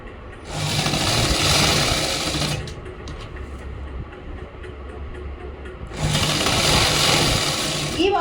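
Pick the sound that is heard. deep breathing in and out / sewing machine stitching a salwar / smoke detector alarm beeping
sewing machine stitching a salwar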